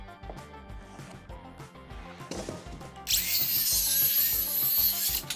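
A power saw cuts a 40-degree angle in a wooden bench board, bursting in loud and harsh partway through after quieter rhythmic shop noise, and holding a steady high whine to the end.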